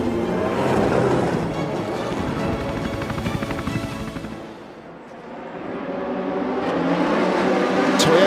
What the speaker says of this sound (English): We have started a formation lap for the 6 Hours of Spa.